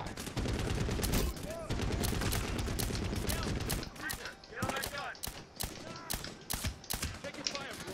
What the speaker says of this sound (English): you want to get some shots on this guy